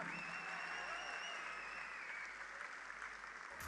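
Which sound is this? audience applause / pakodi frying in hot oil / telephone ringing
audience applause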